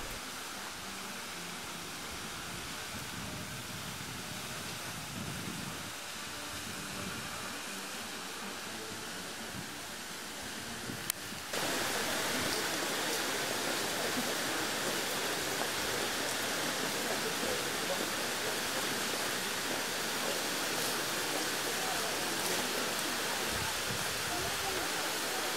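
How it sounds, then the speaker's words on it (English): Steady broadband hiss of rain falling, growing noticeably heavier and denser partway through, with no voices. "As you can see, it was raining"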